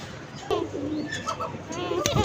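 Pigeons coo nearby in a short burst of soft, throaty, rolling calls, a few overlapping phrases close to the microphone over faint background noise.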